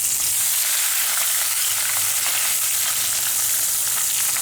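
Brinjal slices frying in hot oil, a dense, continuous loud sizzle and crackle that holds steady throughout, close up with no voices.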